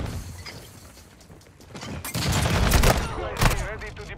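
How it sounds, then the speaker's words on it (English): A stun grenade detonates in Call of Duty: Modern Warfare II, bursting into a loud, harsh blast with crackling and shattering debris. A second sharp crack comes shortly after, following a quieter stretch of game ambience. "Stun grenade out!"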